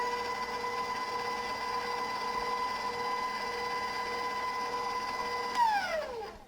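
An electric mixer beats red velvet cupcake batter with a steady, loud motor whine holding an even pitch for several seconds, then the tone drops as it winds down near the end.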